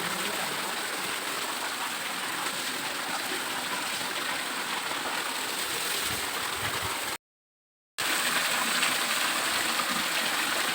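Water flows steadily near the Punyagiri hill temple, a constant, dense rushing hiss like a nearby stream, broken by one brief silent gap before resuming just as loud.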